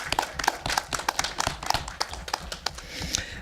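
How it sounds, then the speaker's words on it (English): Scattered claps from a small audience rise in a loose, uneven rhythm, each hand strike distinct and fairly close, with no talking over them. "So I would give an even bigger round of applause for him for making this possible."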